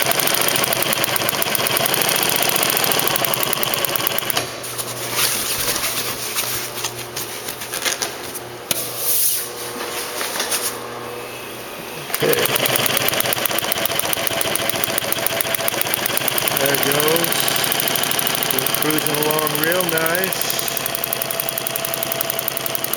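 A Singer 111W153 walking foot industrial sewing machine stitches canopy fabric, running in a fast steady mechanical chatter that pauses briefly midway, then resumes, loud and close.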